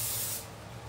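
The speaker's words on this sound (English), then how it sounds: "So I'm going to just spray the bottom of this." Cooking spray hisses onto the bottom of a sheet of layered phyllo dough for spinach triangles, one steady close spray for about half a second, then a fading quieter hiss.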